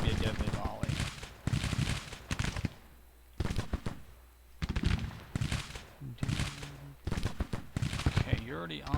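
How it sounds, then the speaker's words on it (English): Musket volleys in a Civil War tactics game set in 1862: repeated crackling bursts of massed rifle fire, rolling in dense waves with brief lulls, fairly loud and close. "We'll give you a deadly volley."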